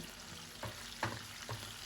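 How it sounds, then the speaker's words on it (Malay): Eggs frying in a generous amount of hot oil in a home kitchen, a quiet continuous sizzle with a few soft clinks or stirring knocks spaced through it. "So kita goreng telur."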